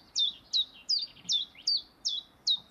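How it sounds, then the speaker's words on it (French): A common chiffchaff singing its two-note song, with seven bright, high, evenly spaced notes repeated at a steady rhythm, clear and fairly close against a quiet background. "Hein, c'est le Tchif Tchaf, vraiment le Tchif Tchaf, Tchif Tchaf."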